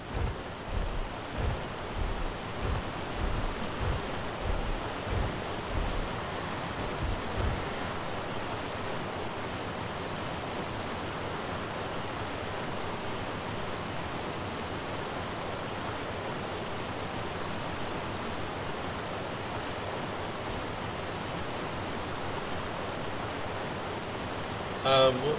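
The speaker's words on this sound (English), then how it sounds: "waterfall, eh?" Steady broadband rush of a waterfall, fairly loud and continuous throughout, with a few brief low thumps near the start.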